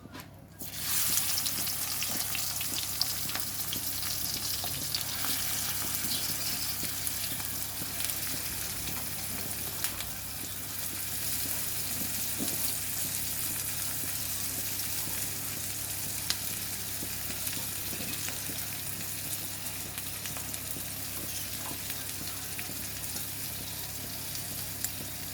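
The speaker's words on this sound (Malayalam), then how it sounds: "ഇതിലേക്ക് ഓയിൽ ഒഴിച്ച് കൊടുത്തിട്ടുണ്ട്. ഇനി നമുക്കിതിലേക്ക് കക്കയിറച്ചി ഇട്ട് കൊടുക്കാം." Clam meat frying in oil in a pan, a steady hiss of sizzling that runs for the whole stretch, moderate and even with a constant low hum beneath.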